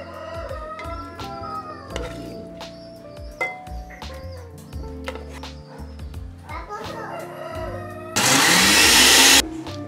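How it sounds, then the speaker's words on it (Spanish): Near the end, a kitchen blender roars loudly for a short burst as it purées cooked chicken livers for pâté. Before that come a woman's speech, children's chatter and kitchen clatter. "los vamos a llevar a procesar en la licuadora"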